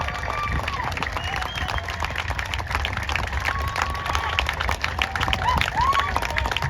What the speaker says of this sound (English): Rick Kelly, let's give him a huge round of applause.